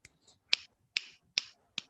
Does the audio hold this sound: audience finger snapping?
yes